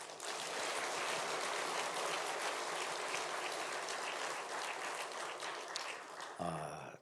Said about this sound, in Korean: 오늘은 좀 아는 것처럼 고맙다고 박수 한번 쳐줘